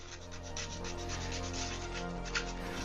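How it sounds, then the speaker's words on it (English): Rough, coarse sanding by hand, a steady continuous rasping rub with dense broadband texture, held close and fairly loud throughout, with no talk over it. "We're just gonna do fairly rough sanding, pretty coarse"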